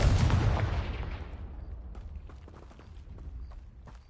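A Confringo blasting spell explodes in the Hogwarts Legacy video game, a loud booming burst at the start that rumbles and decays over several seconds, with faint crackling debris afterward.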